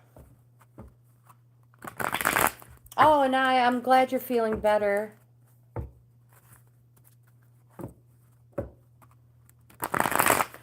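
Brief papery riffling bursts of playing cards being shuffled, a few separate flurries with a short stretch of speech in between and soft taps.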